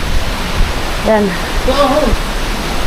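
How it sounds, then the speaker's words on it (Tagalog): Strong storm wind roars with broadband rushing and waves washing ashore near moored boats, a steady loud noise bed while a voice speaks briefly over it. "sobrang lakas ng hangin"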